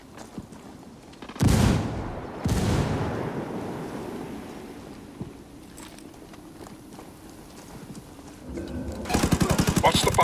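Gunfire in Ghost Recon Wildlands, coming from a church: isolated heavy shots early on, then a rapid burst of automatic fire near the end, with talk over the game audio.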